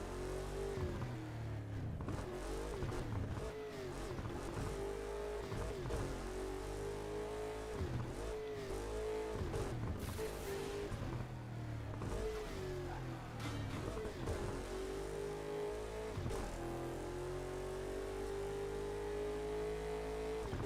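A racing car engine in Burnout Paradise Remastered revs and shifts repeatedly, pitch climbing and dropping through gear changes, loud and continuous from start to finish.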